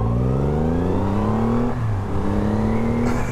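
A 2024 Triumph Rocket 3 Storm motorcycle's large engine revs hard, its deep tone rising steadily through the gears with a brief dip at a shift, loud and close with no talking.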